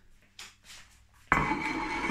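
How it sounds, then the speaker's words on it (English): A plastic lid pulled off a container holding a microwaved Iceland Snacksters peri peri chicken panini, giving a few faint rustles followed by a louder crinkling scrape that keeps going to the end. "I'll take the lid off as well so we can see what we've got in it."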